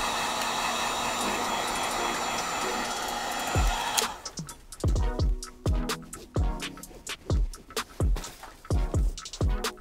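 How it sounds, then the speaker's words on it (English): A heat gun's steady, breathy blowing hiss runs for about four seconds while customizing an Air Jordan 3 sneaker, then cuts off, followed by a series of sharp taps and knocks. "You need a heat gun, don't use a blow dryer."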